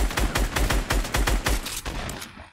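Rapid, evenly spaced automatic gunfire in Fortnite, a loud close burst of about a dozen shots that fades at the end.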